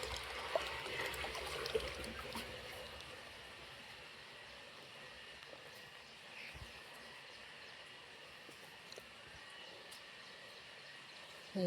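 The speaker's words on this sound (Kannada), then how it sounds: "ಈ ಡ್ರಮ್ ಮಾತ್ರ ತುಂಬಿಸ್ತಾ ಇದ್ದೀನಿ ನಾನು." Water pours steadily into a drum on a rooftop terrace garden, a soft, even rushing trickle heard from a moderate distance with no talking.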